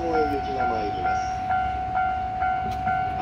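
A rapid Saikyo Line train bound for Kawagoe arrives at Jujo station beside a level crossing, with a steady ringing tone pulsing in regular beats over low rumble, and a voice speaks over it.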